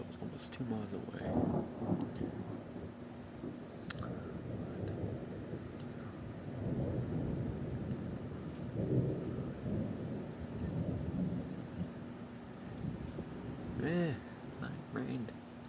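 Thunder rumbles repeatedly through a strong thunderstorm with high winds and rain, rolling and fairly distant, while people murmur in the background.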